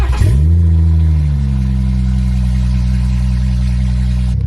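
A station wagon fitted with a swapped B58 engine cranks and fires up, its starter whine giving way to a loud rev that quickly settles into a steady, close idle that hums for several seconds.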